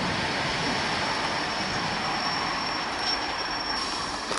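V/Line N14 set train carriages, hauled by locomotive N469, roll steadily along the rails with a continuous rumbling clatter and a faint high squeal, close and loud throughout.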